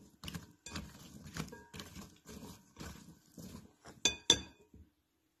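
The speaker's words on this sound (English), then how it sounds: "Give that a stir." Soft clinks and scrapes of a utensil against a bowl as potatoes dressed with olive oil and seasoning are stirred, in a quick uneven rhythm of light taps, close and faint.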